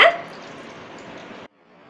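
About half a cup of water is poured into a mutton chops mixture with coriander and mint leaves, a steady splashing hiss for about a second and a half that stops abruptly, leaving faint background noise.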